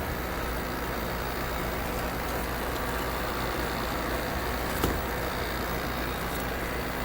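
An air conditioner compressor runs on an off-grid solar setup, giving a steady, loud droning hum with a constant broadband whoosh that holds unchanged throughout, apart from a single brief tick.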